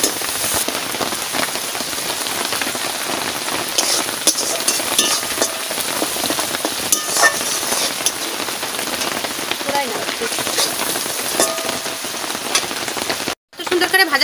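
Potol (pointed gourd) frying in oil in a pan, a steady dense crackling sizzle throughout with a brief cut near the end.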